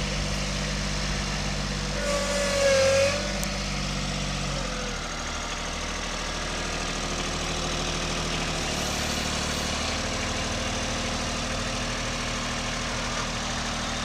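A low, steady engine idle from a 2015 Kubota B26 compact tractor with backhoe rumbles throughout, close and continuous, with a brief rise in pitch early on before settling back.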